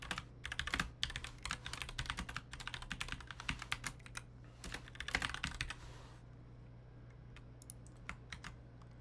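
Rapid keystrokes on a computer keyboard as a line of C++ code is typed, quick uneven clicking bursts close by that pause briefly partway through, then trail off into sparse taps over a low steady hum.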